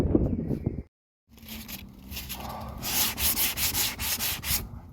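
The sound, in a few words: sanding a scuffed car bumper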